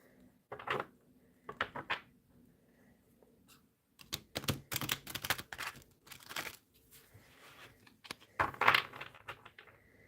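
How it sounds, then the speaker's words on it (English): Several quick bursts of card shuffling, crisp rattling riffles separated by short pauses, heard up close. "One more shuffle."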